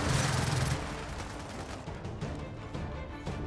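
Sniper gunfire in Gears of War 4, heard as a dense, steady wash of loud shots and battle noise that holds through the whole stretch without letting up.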